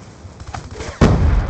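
A frag grenade explosion in the video game Black Ops II bursts in loud and close after a second of quieter in-game gunfire, then stays heavy and rumbling to the end.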